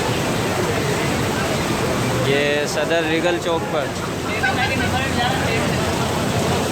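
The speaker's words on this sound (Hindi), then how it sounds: "यहाँ पर तूफ़ानी बारिश हो रही है।" Heavy stormy rain pouring on a street in Saddar, Karachi, a loud constant hissing roar that fills the clip, with someone talking over it.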